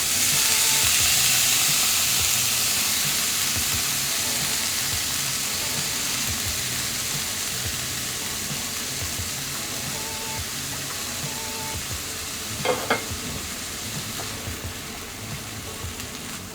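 Minced mutton keema fries in a pan with chopped green onion leaves and dill, giving a steady close sizzle with faint stirring clinks near the end and no talk.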